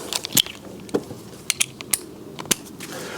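A ratchet with a T30 Torx bit backs out bolts on a Fiat 500 passenger door, giving a few sharp, separate clicks spaced unevenly over a quiet background.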